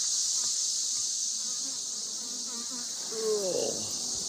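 Honey bees swarm around an open beehive while honey supers are checked, making a steady, dense high buzz throughout, with a short nearer drone rising near the end.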